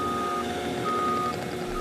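A snow plow truck backs up in a parking lot, its reversing alarm beeping steadily over a constant low engine rumble at moderate distance.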